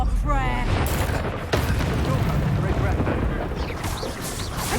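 Bombarda spell explosions in a Hogwarts Legacy duel: a dense, rumbling roar of game blasts with a sharp booming hit partway through, continuing loud throughout.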